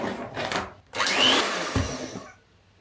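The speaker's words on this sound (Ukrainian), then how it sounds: "до сметани додаю цукор. і збиваю міксером" Electric hand mixer whipping sour cream with sugar for a monastery hut cake, a steady close whir that briefly stops, starts again, and then winds down, no talking.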